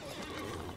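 A horse neighs in the fantasy online game Lord of the Rings Online, a short, close whinny of under a second against a steady game background, with no talk over it.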